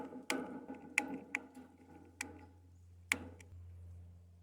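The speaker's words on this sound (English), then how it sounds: "All you need is half-inch hardware cloth, tin snips to cut it with, and something to bend it with." Tin snips cut through half-inch hardware cloth to make a mouse guard for beehive boxes: about five sharp, crisp metallic snaps, fairly close, with uneven gaps between them and a low steady hum underneath.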